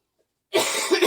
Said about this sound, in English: you don't want to hear me coughing all the time